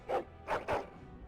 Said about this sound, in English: Angry barking and growling.